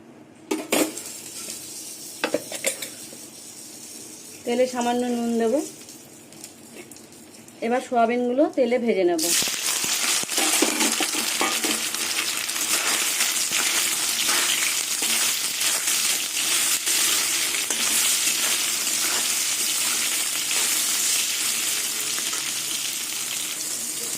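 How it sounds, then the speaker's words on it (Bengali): Soybean chunks frying in hot mustard oil in a wok, a loud steady sizzle that bursts in and holds for the rest of the span, with a few brief voiced sounds and clinks before it starts. "তেল গরম হয়ে গেলে তারপরে সোয়াবিনগুলো ভেজে নেব"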